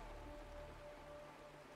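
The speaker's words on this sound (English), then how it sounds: "It is raining!" Soft, steady rainfall patters continuously in the video game Honkai Star Rail, faint and even, with no voices over it.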